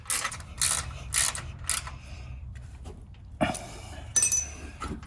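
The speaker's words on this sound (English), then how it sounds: "Take our 10mm socket and secure the brake line and ABS lines to the frame rail." A 10mm socket ratchet clicks in short bursts while brake and ABS lines are fastened to a Jeep Wrangler JL frame rail. Several quick metallic ratcheting runs sound close by, separated by quieter pauses and light handling noise.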